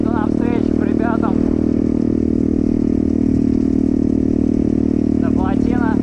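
A BSE 125 pit bike engine drones steadily and loudly throughout while the rider is riding, with a rough mid-pitched hum and wind noise. A voice speaks faintly over it near the start and end.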